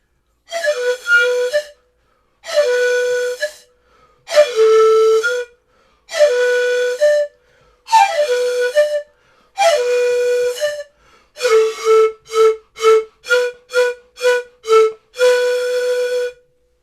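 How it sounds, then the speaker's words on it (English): A breathy wooden Native American flute plays a phrase of sustained notes, then a run of quicker repeated short notes, clear and close with silence between phrases. "Now that sound was probably made on a flute by a Native American"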